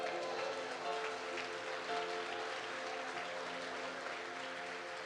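A church congregation claps during a Sunday evening service, an even, moderately distant wash of applause over a soft sustained musical hum.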